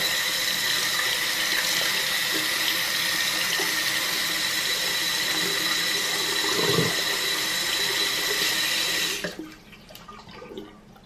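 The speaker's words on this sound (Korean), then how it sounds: "물을 살짝 풀어서 이렇게 헹궈 주시면 됩니다" Tap water pours steadily over the detached head of a Braun Series 9 (9293s) shaver, a loud continuous rush that cuts off near the end, leaving quiet drips and handling noises.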